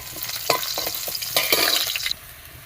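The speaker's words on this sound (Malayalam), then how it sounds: "ഇതാ കുറച്ച് ചെറിയുള്ളി വെളുത്തുള്ളി ഇഞ്ചി ഇതൊന്ന് എണ്ണയിലിട്ട് വഴറ്റിയെടുക്കണം" Shallots, garlic and ginger sautéing in oil in a small iron pan, a close crackling sizzle broken by quick stirring scrapes, fairly loud and without speech.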